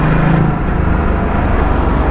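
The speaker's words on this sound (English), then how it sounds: "I am unable to gobble the fact that the bike is stalling like that." A Ducati motorcycle engine with a suspected fault stalls, a loud close rumble that sags and runs unevenly with no one talking.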